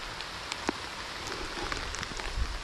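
Steady rain patters on a farm plot, a continuous close hiss with scattered individual drops and no talking.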